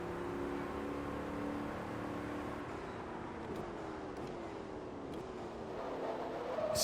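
Corvette engine from Forza Motorsport 2, a Lingenfelter Corvette in a Touring Cup race, holds a steady high drone through a long sixth gear, with harmonic lines sliding as the revs shift and building slightly at the end.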